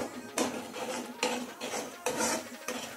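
A metal spoon stirs cumin powder and salt in a steel bowl, giving repeated scraping clinks at a steady rhythm, close and fairly loud with no voices.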